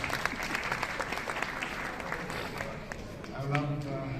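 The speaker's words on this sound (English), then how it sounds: "So give him a round of applause." A crowd at a business event during Gulfood 2023 in Dubai applauds a speaker, a steady wash of clapping with a brief voice near the end.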